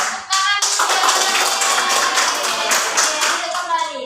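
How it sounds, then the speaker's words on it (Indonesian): A class of children clapping their hands together, a dense, steady round of many close hand claps filling a classroom for about four seconds before tapering off. "Oke, tepuk tangan"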